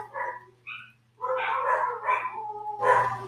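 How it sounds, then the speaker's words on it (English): Dogs bark in a quick, irregular run of loud, nearby woofs and yips, with a longer cluster and a final sharp bark over a low steady hum. "Dogs are barking, of course."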